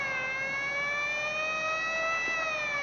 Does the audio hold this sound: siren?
yes